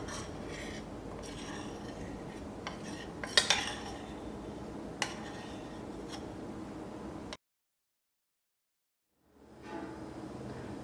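A spoon clinks and scrapes in a cup, mixing milk foam with black coffee foam, with faint taps and a few louder knocks, quiet and close, then a brief dead silence before low room sound returns.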